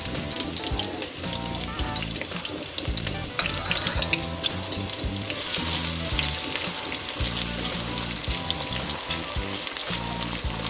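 Onions fry in hot oil with a loud, steady sizzle and crackle, and stirring scrapes come through at intervals. The sound stays busy and close for the whole stretch, with no voice over it.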